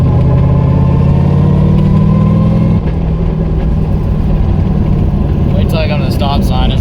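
A turbo, nitrous-fed, LS-swapped Miata rumbles loud and close from inside the car, a heavy low drone that shifts partway through and continues with rough mechanical noise.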